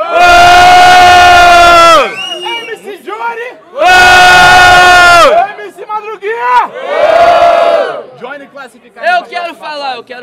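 A crowd at a Brazilian freestyle rap battle erupts in loud sustained roars and shouts in three big bursts, with a host talking in between.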